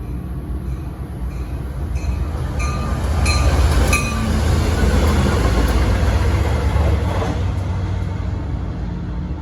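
Diesel locomotives roll through Princeton Junction station with a heavy low engine rumble that swells as they pass, joined by rhythmic clacking of wheels over rail joints and faint metallic squeals, loud and close.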